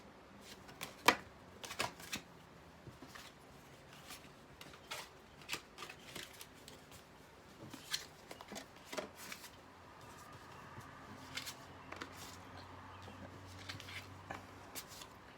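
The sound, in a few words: shuffling a deck of tarot cards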